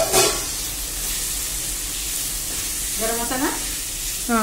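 Chicken pieces with tomatoes fry in a pan for chicken noodles, giving a steady close sizzle and hiss throughout, with brief talk near the start and end.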